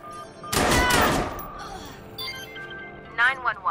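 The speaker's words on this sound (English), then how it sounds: "Someone's shooting, please come quick." A short, loud volley of gunshots in the Watch Dogs 2 video game, lasting about a second, followed by voices talking over fainter game sounds.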